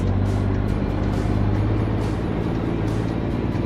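An old Mack truck engine in American Truck Simulator idles and pulls with a steady, deep, throaty rumble, loud and close with no talk over it.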